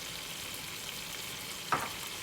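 Vegetables searing in a pot for homemade chicken vegetable soup give a steady, even sizzle, with one brief louder clatter or stir near the end.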